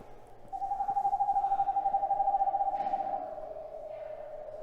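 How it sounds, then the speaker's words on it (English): Recorded eastern screech owl call played from a push-button exhibit at a nature center: a single steady, monotone whinnying trill that rapidly pulses for about three seconds, clear and moderately loud, in a quiet room. "There it is. Eastern screech owl."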